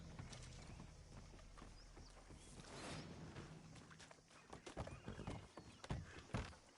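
A beefy Breton horse in a video game moves along with clip-clopping hooves, a neigh and scattered mechanical thunks, the hoofbeats becoming denser and louder toward the end over a steady background.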